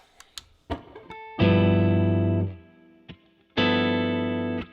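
Distorted electric guitar chords from a Reverend Pete Anderson signature guitar with a bass contour switch ring out twice, each struck hard and left to sustain, with a few muted picks and string scrapes in between.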